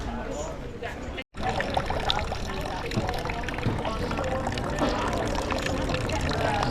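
Fresh drinking water runs steadily from a 1500s fountain in Cathedral Square, Taormina, Sicily, a continuous splashing pour heard up close with a brief cut near the start and faint background activity.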